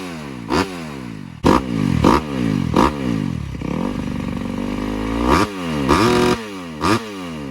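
A 2021 KX250 dirt bike with a Pro Circuit full exhaust system, spark arrestor removed, revs hard again and again with a raspy, loud exhaust, sharp throttle blips rising and dropping, one longer sustained rev midway.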